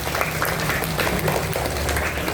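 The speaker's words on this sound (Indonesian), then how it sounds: "Tepuk tangan lagi dong." Audience applause at a children's talk on charity, a steady wash of clapping filling the whole stretch at moderate level, with faint voices underneath.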